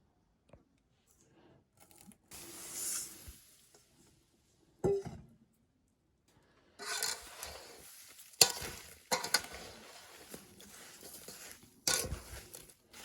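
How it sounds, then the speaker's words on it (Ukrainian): Two kilograms of peeled, washed apples with 700 g of oranges and sugar are stirred in a pot, giving intermittent wet scraping and sloshing bursts separated by quiet pauses, close and moderately loud; no talking. "Вимішую, щоб яблука почали пускати сік."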